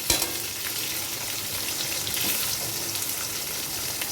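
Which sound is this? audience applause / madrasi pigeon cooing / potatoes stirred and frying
potatoes stirred and frying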